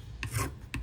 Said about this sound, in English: Now, if you don't have a Dremel tool, you can use a file.